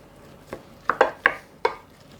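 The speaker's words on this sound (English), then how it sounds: "I'm going to add 2 eggs to that, and I'm going to stir that around a little bit" A utensil stirs two eggs into a salmon patty mixture in a bowl, giving a handful of sharp clinks and scrapes against the dish, irregularly spaced and close by, with no talking.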